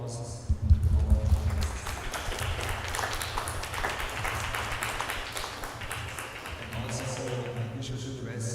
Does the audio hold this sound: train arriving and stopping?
no